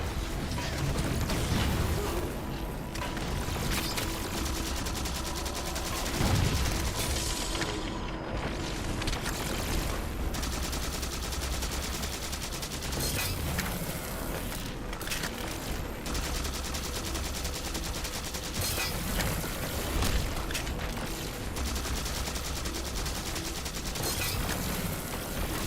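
Steady gunfire and mechanical weapon sounds from a Halo game, with automatic bursts and scattered shots running continuously over a busy background, plus occasional louder hits.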